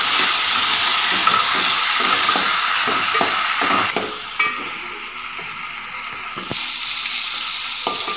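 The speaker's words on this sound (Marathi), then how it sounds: "टोमॅटो चांगला मेल्ट होईपर्यंत फ्राय करून घ्यायचा आहे" Tomato stir-fried in a pan with browned onion for a Malvani-style clam curry, a loud steady sizzle with repeated spoon scrapes that quiets somewhat partway through and keeps going.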